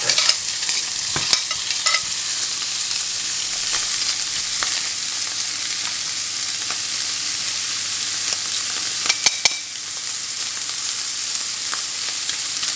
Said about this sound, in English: I'm just going to add a little bit more coconut oil, and now we're going to cook the prawns